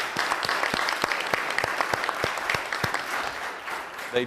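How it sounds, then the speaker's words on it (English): An audience claps steadily, a dense burst of applause with sharp individual claps, fading slightly near the end. "How about a round of applause to welcome our visitors?"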